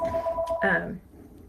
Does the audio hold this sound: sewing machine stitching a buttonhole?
no